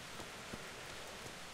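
Steady falling rain in the medieval world of Kingdom Come: Deliverance makes a dense, even hiss with faint scattered drop ticks, soft and continuous with no voices.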